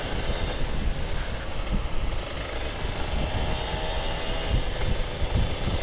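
An old Kawasaki Ninja RR 150 motorcycle is being ridden. Its engine drones steadily under heavy wind buffeting, loud and continuous.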